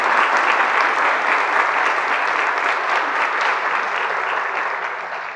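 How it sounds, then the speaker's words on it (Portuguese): Congregation applause during a morning church service, a loud, sustained burst of many hands clapping together to welcome candidates, fading slightly at the end with no talk over it. "Salva de palmas."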